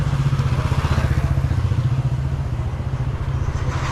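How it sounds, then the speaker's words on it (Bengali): A motorcycle engine idles close by with a steady, rapid throbbing pulse that stays loud and unbroken, with no talking over it. "উঠো বাইকে উঠো আমার বাইকে উঠো"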